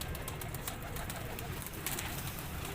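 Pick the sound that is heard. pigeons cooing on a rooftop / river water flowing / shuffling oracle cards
pigeons cooing on a rooftop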